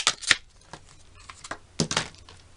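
A SideKick mini die cutting machine cuts a girl shape from paper, giving faint, scattered crisp crunches and rustles in short irregular bursts against quiet.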